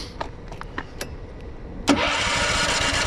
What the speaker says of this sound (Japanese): エンジンかけとこう